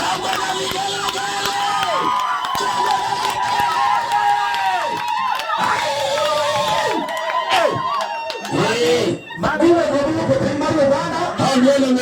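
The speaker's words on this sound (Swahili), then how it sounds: "Shangwe na vigelegele." A crowd at a lively church gathering cheers and ululates with high, wavering trills. The sound is loud and continuous throughout, with voices mixed into the din.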